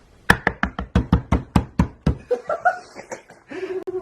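A voice mimics knocking on a hotel room door, giving about ten quick, loud, evenly spaced raps, followed by brief vocal sounds.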